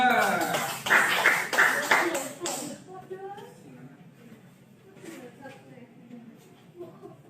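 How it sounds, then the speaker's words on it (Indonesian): Classmates clapping for a presenting group in an Indonesian classroom, a short burst of hand claps for a few seconds that fades into quieter murmuring and voices. "Tepuk tangan untuk kelompok 2."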